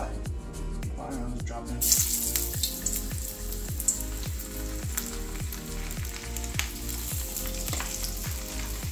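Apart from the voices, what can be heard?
bluegill fish frying in hot oil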